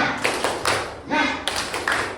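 A classroom of students performs a rhythmic spirit clap, with patterned bursts of clapping mixed with thumps. Voices chant or talk along with it.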